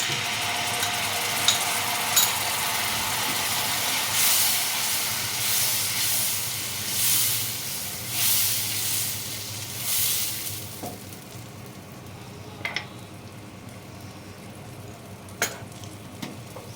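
Sour yogurt hits fried spices in a pan for an okra dish, setting off a loud hissing sizzle that swells in repeated waves, then fades to a quieter simmer with a few clicks of a utensil.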